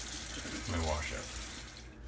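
A bathroom tap runs water while washing up before a wet shave, a steady close hiss of flow that fades out near the end, with no talk over it.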